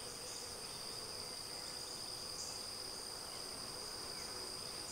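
A steady insect drone holds at a weak beehive's narrowed entrance, an even buzzing hum with a high sustained whine running unbroken throughout, no speech.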